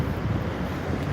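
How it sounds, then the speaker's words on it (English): Wind buffets a handheld microphone on a street in Dublin city centre, a steady loud rumbling roar with no other sounds coming through. "Sorry if it's a little bit windy here."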